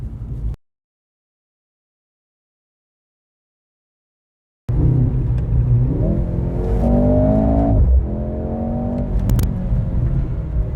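Mercedes-AMG C43 with the M139 four-cylinder engine revving while driving, a loud, close engine drone with rising and falling rev sweeps, arriving abruptly after a brief burst and several seconds of silence.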